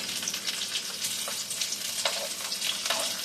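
Chicken and zucchini sizzling in a pan, a bright crackling fry with occasional stirring scrapes, steady and close, no voices.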